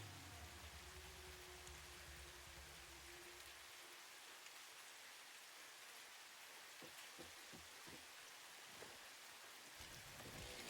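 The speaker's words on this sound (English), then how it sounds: "Oh, now it's really raining." Steady rain in the video game Satisfactory patters down in a dense, constant hiss, with scattered droplet taps and no voices.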